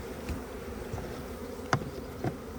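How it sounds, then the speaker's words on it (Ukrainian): A dense swarm of honeybees buzzes steadily up close inside a bucket, with a few sharp knocks and taps against the bucket. "Ось така кількість бджіл зараз у відрі."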